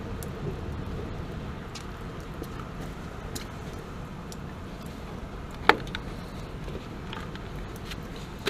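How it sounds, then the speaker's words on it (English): Steady rain falls outdoors at a water heater service call, a soft broadband hiss running throughout with a single sharp click near the middle and no talking. "And it's raining out here, so I'm trying to get out of this rain."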